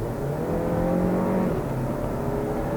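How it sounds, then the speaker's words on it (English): Volkswagen Golf 7 from 2013 with a small engine, revving while driven along a winding road in manual mode, a close, steady drone that rises and shifts in pitch as it pulls. "the little engine roars away and does its thing nicely"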